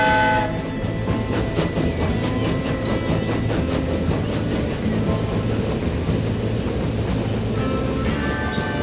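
A steam train in the video game Transport Fever 2 rolls along with rhythmic clatter and a sustained horn-like tone at the start and end, loud and continuous, no voices.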